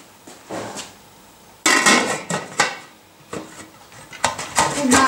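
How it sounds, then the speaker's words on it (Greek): A metal lid set onto a cooking pot holding drained spaghetti and oil, with a few sharp close clanks and rattles in uneven bursts, separated by quieter pauses. "και κλείνοντας το καπάκι"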